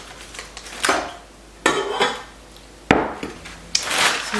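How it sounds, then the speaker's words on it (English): Eggs cracked into a measuring cup for cupcake batter: a few sharp, loud taps and knocks at irregular intervals, each followed by brief rustling and shell handling close by, with no talking. "we're going to go ahead and break our eggs into this measuring cup first so that we don't end up with bad eggs in our cake mix"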